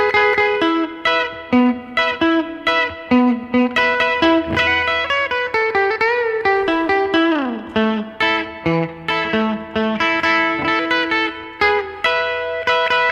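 Second verse of a surf song on electric guitar, with reverb-soaked surf picking, a sliding descending run midway and a steady rhythmic pulse, heard alone.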